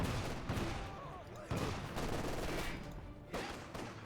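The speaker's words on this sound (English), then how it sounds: "Rifle grenade off here." Rifle grenade launch and impacts in Company of Heroes 2, Wehrmacht against British forces, with sharp gunfire bursts at intervals over dense battle rumble and a commentator's voice running beneath.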